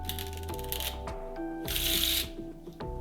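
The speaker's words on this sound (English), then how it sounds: "Let's try some Riffle Shuffle." A deck of Orbit V7 playing cards is riffle shuffled up close, with crisp fluttering bursts of quick clicks followed by a brief bridging ruffle.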